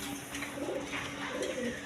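Indian Kaldom pigeons coo in soft, repeated low rolling calls against a steady background hum, a pair of birds close by with no talking.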